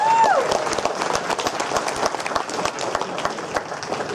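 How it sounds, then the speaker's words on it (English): Audience applauds sponsors at a 2018 charity event, steady crowd clapping throughout with a brief whistle at the start and some voices mixed in. "Round of applause for our King sponsors."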